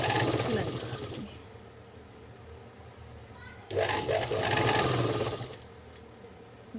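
A sewing machine stitches a kurti being taken in for a fitted shape, running in two loud bursts of steady mechanical whirring separated by a quieter pause, with low voices in the background.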